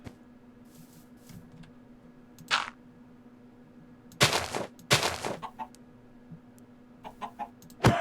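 Minecraft chickens clucking in the video game: scattered short clucks and bursts of squawking come in clusters over a quiet steady hum, fairly close and alone, with no talking.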